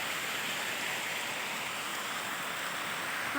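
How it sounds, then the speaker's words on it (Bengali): Heavy rain falls in a steady, dense wash of noise with no breaks, moderately loud and even throughout, with no voices. "এই 4-5 দিন ধরে অতিরিক্ত বৃষ্টি পড়ছে"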